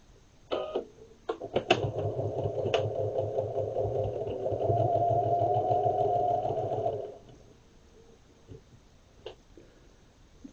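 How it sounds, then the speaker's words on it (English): A sewing machine stitches through the thick, bulky tab of a handmade bee bag, its rapid mechanical chatter running steadily for several seconds after a few short starting bursts, then stopping for faint handling clicks. "Going through the bulk of the tab here. And I'm going to sew over that a few times."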